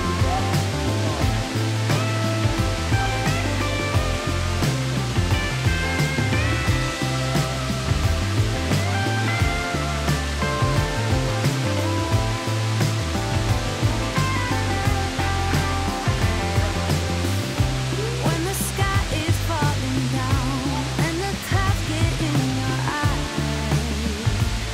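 Balagbag Falls waterfall pours steadily with dense, continuous rushing water close by, a loud broadband roar with no pauses and no talking.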